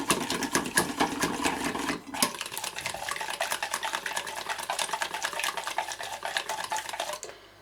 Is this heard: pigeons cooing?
no